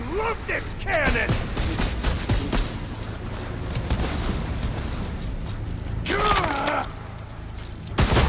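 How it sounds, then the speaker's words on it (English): A cannon firing in the video game Horizon Forbidden West, sharp repeated cracks and booms over a dense rumbling battle bed, with a voice briefly talking at the start and again near the end. "I love this cannon!"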